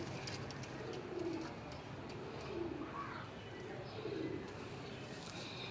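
Pigeons cooing at a pigeon club in Gujranwala, soft repeated low coos every second or so over steady background noise, with someone talking nearby.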